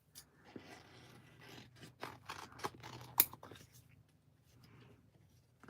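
Scissors snipping through paper during a crafting session, several quick close cuts in a row with faint speech underneath.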